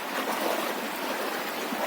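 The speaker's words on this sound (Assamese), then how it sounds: "বাপৰে বাপ, এখনি পূৰা নদীৰ পানী ডাইৰেক্ট সোমাইছে" River floodwater rushes in during a major 2023 flood, making a steady, loud, broadband roar of churning water that continues without a break, with no voices.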